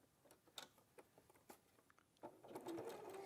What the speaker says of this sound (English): So we're going to do a 1/4 inch seam on this one.